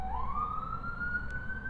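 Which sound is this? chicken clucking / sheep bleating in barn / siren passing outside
siren passing outside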